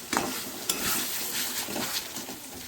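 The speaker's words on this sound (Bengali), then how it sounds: "দিয়ে আর অল্প কিছুক্ষণ মশলার সাথে এই আলুটাকে একটু" Potatoes frying with masala in a pan for katla fish kalia, stirred with steady scraping and clinks of the spatula over a continuous sizzle, with a couple of sharper knocks against the pan.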